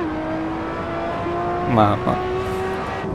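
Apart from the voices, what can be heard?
Ferrari LaFerrari engine roar in the video game Assetto Corsa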